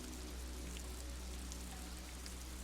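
Steady rain falling in the video game Disco Elysium, an even, continuous patter at moderate level with a low hum underneath and no voices.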